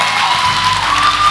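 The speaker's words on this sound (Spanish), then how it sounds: "¿Cuántos le pueden dar un aplauso a Dios en este día?" A church congregation at an Ekklesia Miami service claps and cheers in a brief loud burst, with dense crowd noise and whoops filling the room.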